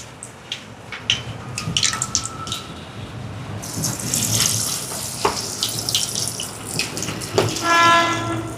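Prawn vadai deep-fries in hot oil, a crackling sizzle that swells into a steady loud hiss with scattered pops and clinks, fairly close.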